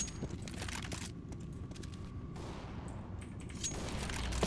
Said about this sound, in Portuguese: tá atirando